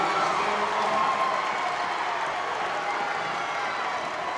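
A high school basketball crowd in a gym roars and applauds after a dunk, a steady dense wash of cheering and clapping holding at full volume throughout.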